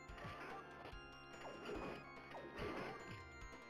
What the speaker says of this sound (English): like the clashing of like steel against armor.